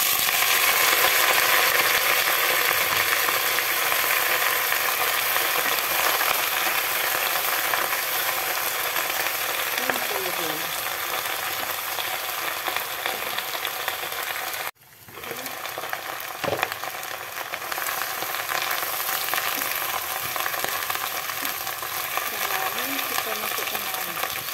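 Mustard greens (sawi) tossed into a hot pan and stir-fried, a steady broad sizzle running throughout with a brief sharp dip midway as the greens drop in, then scraping stirs resuming over the frying hiss.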